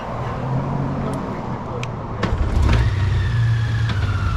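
Honda Goldwing DCT motorcycle engine cranks over and settles into a steady idle close by on the road, with a low rumble that builds midway; a voice speaks briefly underneath.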